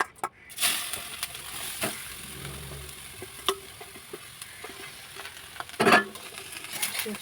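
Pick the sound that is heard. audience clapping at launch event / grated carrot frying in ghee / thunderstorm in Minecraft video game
grated carrot frying in ghee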